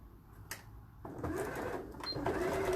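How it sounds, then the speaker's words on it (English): A sewing machine stitches a small quarter-inch seam on a padded, zipped bag, with a short burst early on and then steady continuous running that grows slightly louder toward the end. "Just going to stitch this with a little small seam."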